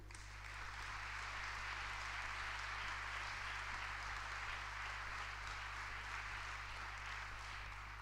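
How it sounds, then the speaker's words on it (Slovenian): Steady, faint applause from a concert audience at a Christmas and New Year pop-rock show by the Sevnica brass band, a dense unbroken patter of clapping heard from a distance over a low hum. "Še en močan aplavz, prosim."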